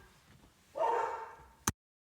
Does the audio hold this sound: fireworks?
no